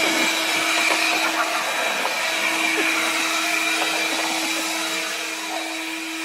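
A WorX 40V battery yard blower runs outdoors with a steady, loud, even whine that holds for several seconds and dips slightly near the end.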